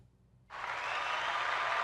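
Applause on a podcast: silence, then a dense burst of clapping starts abruptly and holds at a steady, moderate level to the end.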